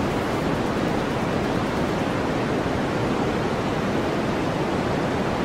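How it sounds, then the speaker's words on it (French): Steady white noise from a podcast, a dense, unchanging hiss spread across the whole range that holds at one constant level throughout, alone with no voices. "qu'est-ce que c'est qu'un podcast à bruit blanc"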